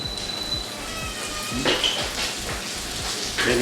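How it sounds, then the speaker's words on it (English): Steady rain falling outside a house, a continuous hiss with scattered drops and faint clatter, heard alone with no talk. "It is raining outside"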